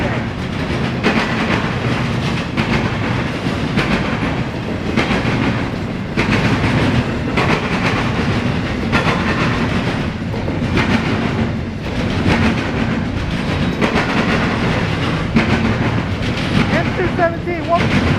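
A CSX eastbound intermodal freight train rolls past in Marion, Ohio, loud and close, with a dense continuous rumble and repeated clickety-clack of wagon wheels; some voices are faintly present.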